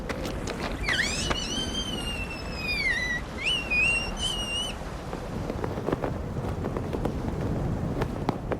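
A bird of prey lets out a couple of drawn-out, wavering whistling calls over wind noise, then the whistles stop and only the wind remains.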